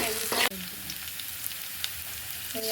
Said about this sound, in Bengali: ভেজে নিচ্ছি এখন